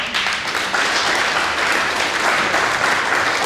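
An audience at a French pleading contest on rape applauds loudly and continuously, a thick even roar of many hands clapping with no pauses throughout.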